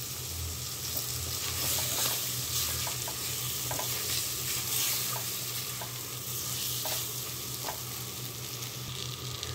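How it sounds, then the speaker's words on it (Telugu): Mutton sizzles steadily in a pan over a medium flame for a mango mutton curry, a dense, even frying hiss broken by light scraping stirs at irregular intervals. "మటన్ వేసి ఒక 2 to 3 మినిట్స్ ఫ్రై అయిన తర్వాత"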